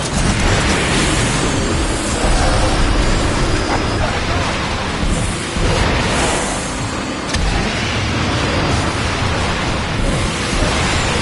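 Warp cannon shells pounding a plaza in Transformers: Fall of Cybertron, a continuous loud wash of explosions, debris and roaring battle noise with repeated heavy blasts, no clear voices.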